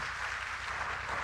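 Applause from an audience at a NEET 2023 felicitation event honouring a doctor, a steady wash of clapping held at an even level throughout, with a low rhythmic hum beneath.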